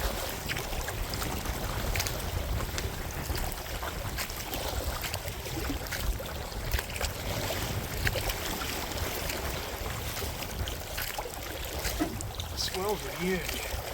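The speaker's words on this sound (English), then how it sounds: "So much whitewater." An Old Town Vapor 10 kayak is paddled through rough whitewater on the Little Wicomico in high wind, with a steady roar of wind and rushing, splashing water throughout and a muffled voice underneath.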